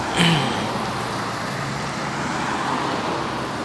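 Road traffic noise in a traffic jam on an Indonesian highway, with buses and trucks around: a steady, dense rumble and hiss of engines and tyres that stays continuous throughout, no talk heard.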